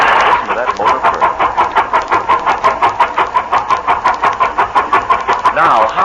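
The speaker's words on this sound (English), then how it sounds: "Listen to that motor purr." A car motor running, performed as a radio sound effect, putters in a fast, even rhythm of pulsing beats, close and fairly loud, continuing steadily for several seconds with a brief change near the end.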